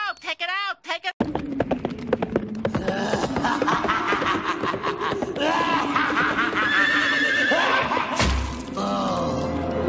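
A cartoon horse from The Simpsons whinnies in a short wavering burst at the start, followed by dense, busy activity and voices throughout.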